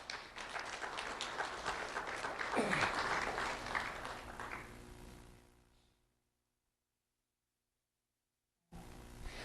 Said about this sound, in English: Let's have a round of applause for Roddy McCormick.